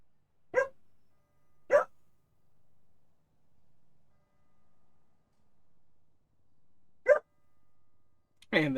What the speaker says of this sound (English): there's Homer just barking in the background